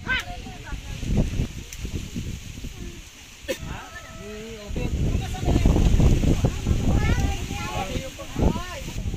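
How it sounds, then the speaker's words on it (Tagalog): Wind gusting and buffeting a microphone at a lakeshore farm in Pampanga, a steady low rush that swells and fades, heard under frequent nearby talk from several people. "Ang sarap ng hangin."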